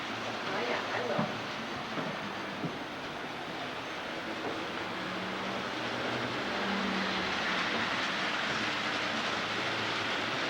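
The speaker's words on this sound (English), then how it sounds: "We've got two trains going here" Two trains run at once, one of them a passenger train, giving a low continuous rumble of rolling cars with faint clatter that grows slightly louder, while voices murmur in the background.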